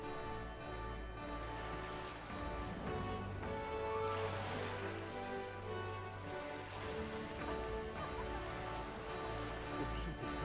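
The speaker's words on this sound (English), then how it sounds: "It's raining." Steady in-game rain in Metaphor ReFantazio, a continuous soft wash over a droning musical score, holding at an even level throughout with no voices.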